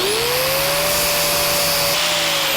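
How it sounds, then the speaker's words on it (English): Angle grinder grinding down welds on the frame of a 1949 Chevrolet gasser whines loudly and continuously at close range, with a steady high-pitched tone and no talking. "So now that it's cooled off, we'll grind it down."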